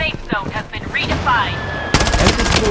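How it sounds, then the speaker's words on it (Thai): Rapid automatic gunfire from an MP5 in the online shooter BloodStrike, loud continuous bursts taking over the second half after stretches of excited talking and game effects. "ไอ้ปืนยิงไม่โดนเลย"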